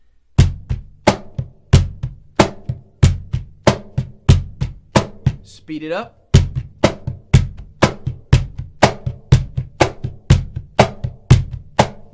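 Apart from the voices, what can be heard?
cajon rhythm with two bass notes and fingertip ghost notes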